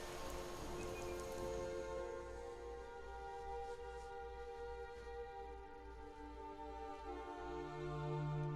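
Steady rain pattering across the open world of the video game Skyrim, a dense continuous hiss over a low droning backdrop, with no voices.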